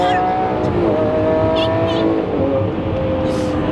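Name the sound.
Lamborghini Aventador engine revving while downshifting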